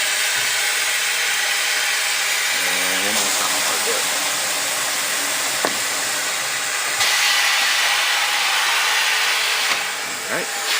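An air compressor runs with a steady loud hiss and hum in a garage during a motorcycle tire change, its level jumping up partway through as it kicks on, with brief clanks and faint talk.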